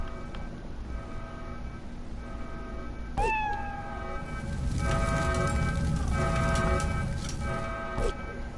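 A cat in Fallout Shelter gives a single drawn-out meow partway through, heard over steady rain-like background noise and game ambience, with a few fainter clicks after it.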